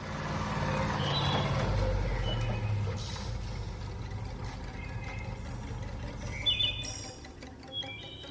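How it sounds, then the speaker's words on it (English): A truck arrives in a radio drama: a low engine rumble swells and then settles, with a hiss and faint high beeps near the end, and no talking. "There's the truck."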